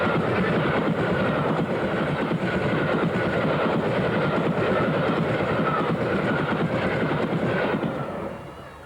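The streamlined LNER Mallard steam locomotive passes on the Hull to Selby main line near Howden, a loud steady roar of train and rolling wheels with rhythmic clatter, holding close throughout before fading at the end.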